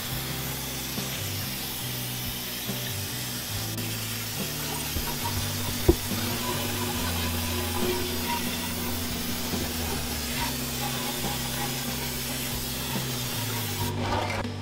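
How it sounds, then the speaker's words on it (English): A parts washer spraying solvent over a transmission part from an AMC Rambler, a steady hissing spray with faint rubbing and a low machine hum beneath, one brief sharp knock midway, no talk. "I got to take this thing to the parts washer."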